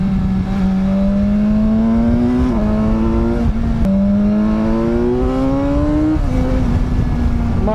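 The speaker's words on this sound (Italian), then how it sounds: "quando metti questa mappatura ogni rilascio inizia a scoppiare lo scarico" Motorcycle with its original exhaust on a sport engine map, riding through curves: a loud, steady engine drone that climbs in pitch through repeated throttle runs, with brief shifts and drops between pulls.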